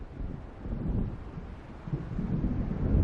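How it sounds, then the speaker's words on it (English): A thunderstorm rolls in the video game Alan Wake Remastered, with deep rumbling thunder and gusting wind swelling and easing in low waves, moderately loud and unbroken by any speech. "It seems there's a storm coming."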